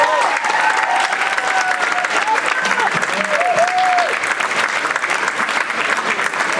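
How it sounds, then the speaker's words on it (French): Dense, sustained applause fills a conference room at a student mathematics presentation, steady and loud throughout with a faint voice underneath. "Ok, on peut applaudir encore."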